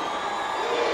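A wrestling crowd at a WCW Saturday Night event cheers and roars continuously, a dense loud wash of voices with no break.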